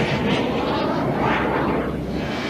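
Fighter jets launching from aircraft carriers in a wartime scene, heard as a loud, continuous roar of jet engines that swells and fades slightly, with no voices over it.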